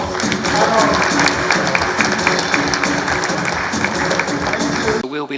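Audience applause fills the room at a launch event for a climate innovation center's strategic plan in Kenya, loud sustained clapping for about five seconds before it cuts off abruptly.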